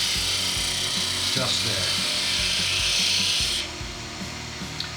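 A wood lathe spins a wooden chalice as a tool cuts a taper into the stem, giving a loud continuous rasping, scraping hiss with brief changes in pressure, and someone speaks a few words over it.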